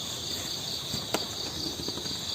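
Crickets chirp in a steady, continuous high trill, moderately loud and close, with a single faint tap partway through and no talking.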